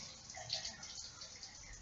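Hot water running from a tap makes a faint, steady broadband rush throughout, with a slight swell partway through.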